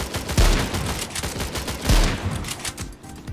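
Gunfire in the S.T.A.L.K.E.R. Minecraft mod: two heavy shots about a second and a half apart ring out amid rapid crackling bursts of fire, with no talking.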